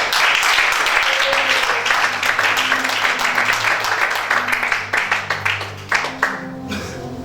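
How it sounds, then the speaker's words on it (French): A church congregation claps and cheers in a sustained wave of applause that fades toward the end while a piano plays underneath. "Si tu es d'accord, acclame pour ça."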